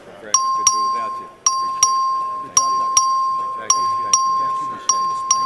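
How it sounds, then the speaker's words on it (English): The voting bell in the Texas House chamber rings in sharp, loud, repeated metallic strikes, struck in quick pairs roughly every second, each ringing briefly before the next. "Clerk, ring the bell."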